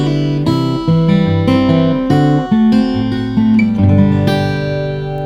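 A short fingerpicked acoustic guitar riff in folk style, with bass notes and melody plucked together in a steady, flowing pattern, close and clear.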